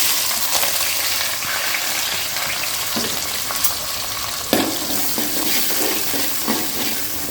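Onions drop into hot oil with popped mustard seeds and fenugreek for a coconut fish curry, giving a loud continuous frying sizzle with occasional stirring scrapes and clatter, no one talking.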